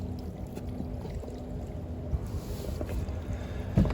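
Water pours steadily from a pipe into a soil filter in an aquaponics tree-growing setup, a constant close rushing trickle with a couple of small splashes near the end.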